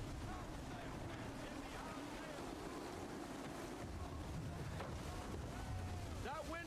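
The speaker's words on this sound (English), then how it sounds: "Heavy gust, Captain. Hard counter." Roaring wind at sea in a sailing-ship drama scene, a steady broadband rush with water and creaking beneath it. The whole stretch stays dense and unbroken, with faint voice-like tones and no clear speech.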